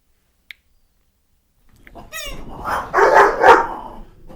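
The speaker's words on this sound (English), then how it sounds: "Doggy's going crazy" A dog barks excitedly in a short, loud burst of rapid barks, close by, following a single faint click moments earlier.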